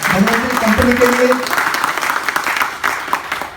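Clapping from an audience at a network marketing motivational meeting rises over fading voices and music-like tones, loud at first and then thinning into scattered claps.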